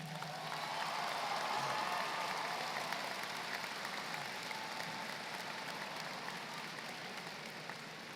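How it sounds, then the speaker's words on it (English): Applause for the parents at a 2015 graduation ceremony, a distant, soft, continuous patter of many hands from a large crowd, steady throughout and slowly fading toward the end. "So let's give our parents a round of applause."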